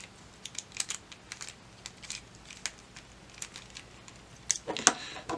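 A plastic 1x3x3 spinner puzzle cube is twisted and shuffled by hand, giving rapid, irregular close clicks and rattles that grow busier toward the end, with no talking.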